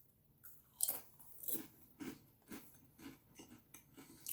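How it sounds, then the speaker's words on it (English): Crisp bites and chewing of crispy fried jalapeño pieces, a series of about eight sharp crunches at a steady pace, close up and quiet. "It's crunchy."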